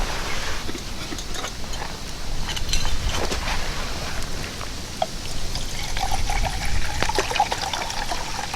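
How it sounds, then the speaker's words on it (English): Bottled water poured from a container into a camping meal pouch to rehydrate it, a steady splashing trickle heard up close with small splashes and drips, outdoors on a fall kayak fishing trip. "I just brought in some bottled water with me, so that's what I'm going to use to rehydrate my meal."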